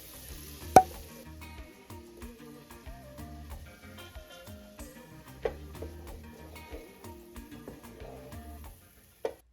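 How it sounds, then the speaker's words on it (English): Onions and garlic are stirred into melted butter in a pan, giving a soft sizzle with scattered utensil taps and one sharp clack near the start. "Next, I add my onions, give that a mix, then my garlic"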